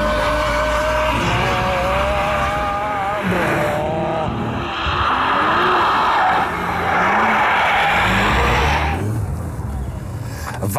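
A Kelleners Sport KS-1 RS sports car's tires squeal and skid in long wavering screeches over a roaring engine, loud and close, with the pitch rising and falling.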